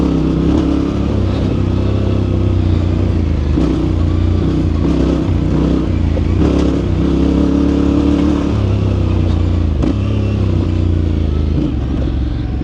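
A loud 2025 Yamaha Tenere 700 Rally motorcycle engine drones continuously off-road, with a harsh metallic rattle from the engine guard clattering over the steady running noise.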